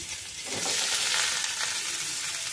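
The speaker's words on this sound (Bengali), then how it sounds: "দিয়ে দেব একটা মাঝারি মাপের পেঁয়াজ কুচি" Chopped medium onion dropped into hot oil with garlic for an arhar dal with cauliflower, hissing in a loud, steady sizzle that swells after the first half second and holds close and continuous, with no voices.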